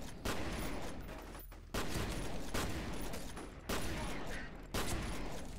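A shotgun in the game F.E.A.R. fires five loud, booming blasts in steady succession, each one a hard, close shot with a short ringing tail.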